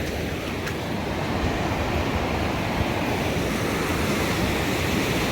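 Ocean surf rolls onto the beach at Newport, Oregon in a steady, dense wash of broadband roar, with some wind noise mixed in and no distinct breaks between the waves.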